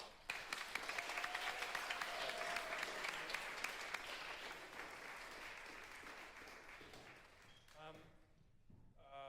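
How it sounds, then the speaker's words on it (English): A seated audience at a university percussion concert gives a performer a round of applause, loud dense clapping that gradually thins out and fades, ending in a few scattered claps and a brief voice. "Another round of applause for Ray Fay."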